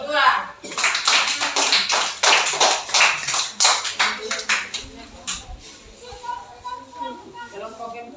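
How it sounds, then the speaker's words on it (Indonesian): A classroom group bursts into a few seconds of brisk, close clapping for a student group, then the applause fades to scattered claps and soft murmuring. "Aplaus dulu untuk kelompok 2."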